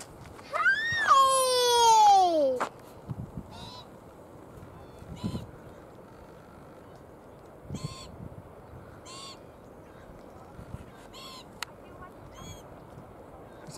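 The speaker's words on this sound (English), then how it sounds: "Do you see those black cockatoos?" An endangered glossy black cockatoo gives a loud, drawn-out wailing call near the start, followed by softer scattered calls in the distance while people talk quietly outdoors.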